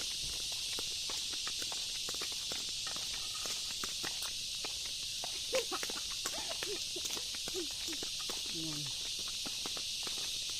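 Insects chirp in a forest as a continuous high, steady drone, heard under rustling footsteps crunching along a path and a voice speaking faintly.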